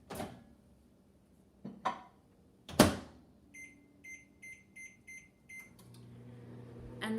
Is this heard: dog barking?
no